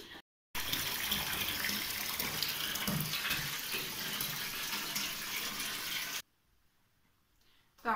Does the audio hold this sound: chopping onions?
no